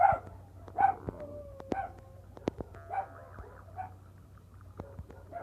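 A pet dog barks several times in short sharp yips, close and fairly loud, with quieter whimpering noises between the barks.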